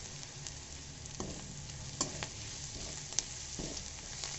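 Mushroom biryani masala with fennel seeds and ground spices being stirred and fried in a pan, a soft steady sizzle under scraping stirs and a few sharp utensil clinks, close by with no talk.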